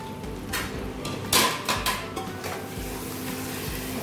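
A metal lid clanks and scrapes as it is lifted off a pot of mutton curry cooked with whole spices, with a few sharp knocks and rattles over a low kitchen hum, close and fairly loud.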